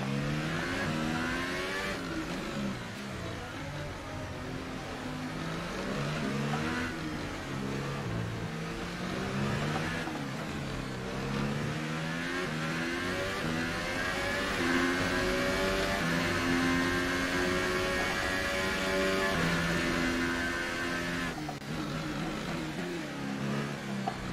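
A McLaren Formula 1 car's engine at the Monaco Grand Prix in the F1 2018 game screams through repeated rising and falling gear changes, revving up and down steadily throughout at moderate level.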